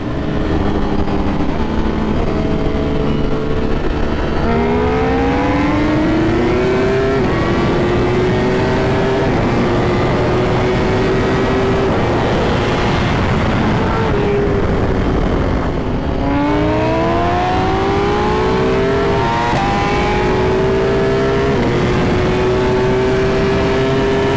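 A Ducati Panigale V4 R motorcycle accelerates hard through the gears, its engine howling up in loud, rising sweeps broken by quick shift dips, then climbing again in a second sustained pull, close and dominant throughout.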